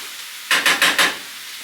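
Ground beef and onions frying in a pan for American goulash give four quick, loud bursts of sizzling as the meat is stirred and scraped, over a steady low hiss.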